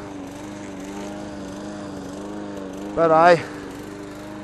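A lawn mower drones steadily and close while cutting grass inside a fenced yard beside a pool, and near the end a voice briefly speaks over the engine.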